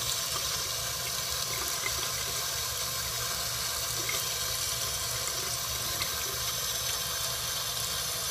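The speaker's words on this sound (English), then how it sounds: "get some water down in your coil, turn it upside down, get all of this completely rinsed out" Tap water runs steadily to rinse out a coil from an iTaste MVP V.2 vape, a constant close hissing stream with no pauses and no voices.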